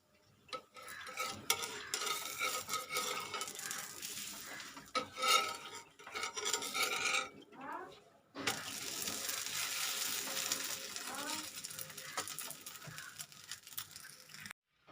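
Sorghum dosa batter spread and cooking on a hot pan, a close, uneven sizzle with scraping and utensil clinks that pauses briefly midway, then resumes as a steadier hiss.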